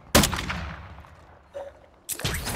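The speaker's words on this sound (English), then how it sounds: "I'm firing on him, hold on." Gunfire in the DMZ video game: two close, loud bursts separated by a short lull with a faint single shot between them, no talking.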